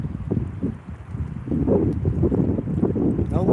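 Cold, strong wind buffets a fishing boat out on open water, a steady low rumble of gusts blasting the microphone that swells louder partway through, with no talking.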